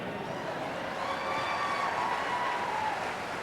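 Audience applause at a Hallmark Keepsake Ornaments 25th anniversary celebration in Kansas City, a steady wash of many hands clapping at moderate volume, sustained without a break and free of speech.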